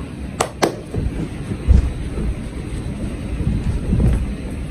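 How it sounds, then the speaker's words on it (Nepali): Heavy rain pours steadily as a dense hiss, with a couple of sharp cracks early on and a low thunder rumble partway through, loud and close throughout. "आज कस्तो पानी पर्यो लाइनै काट्ने गरी"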